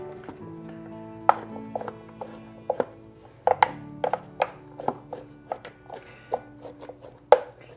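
Grated horseradish root stirred and mixed with vinegar, giving irregular close clicks, taps and scraping knocks with short pauses, and no talking.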